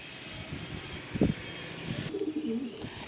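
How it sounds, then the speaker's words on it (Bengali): A female pigeon of an old-generation breed in a loft gives a few soft, faint coos over a low background rumble with no talking. "একটা মাদি পায়রা আছে, ভালো করে দেখুন পায়রাটা"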